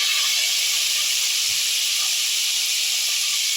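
Peeled boiled eggs frying in hot oil hiss with a loud, steady, close broadband sizzle that holds unbroken throughout, with only one brief soft thump partway through.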